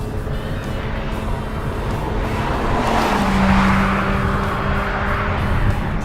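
Mazda RX-8 rotary-engined sports car driving hard through corners, its steady engine drone rising slightly mid-pass with a brief tonal whine, heard continuously from inside or close by with no talking.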